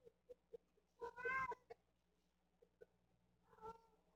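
A cat yowls in the background, a drawn-out wavering caterwaul followed later by a shorter cry, faint and somewhat distant, with soft scattered clicks between.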